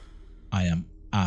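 A telephone rings in the horror video game Madison, two loud electronic ring bursts with a short pause between them, heard close and alone.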